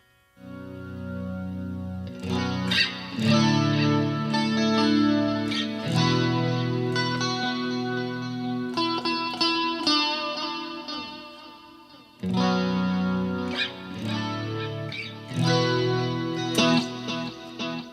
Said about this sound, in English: the riff was with some heavy chorus